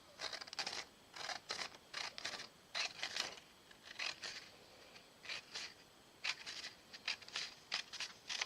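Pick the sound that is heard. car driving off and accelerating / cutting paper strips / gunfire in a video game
cutting paper strips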